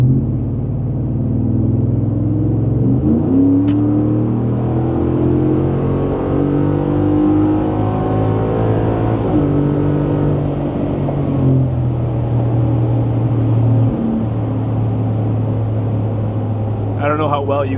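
A 2021–2025 Ford F-150 fitted with a Flowmaster Outlaw muffler accelerates, its exhaust rising in a deep droning roar as the revs climb and then settle, heard from inside the cab at moderate loudness.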